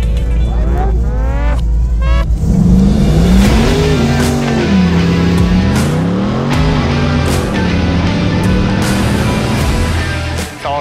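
A 1987 R10 truck with a tall carbon-fiber wide body and a 434 LSX engine revs hard at a Texas LS Fest car show, the engine note rising and falling loudly and continuously, close by throughout.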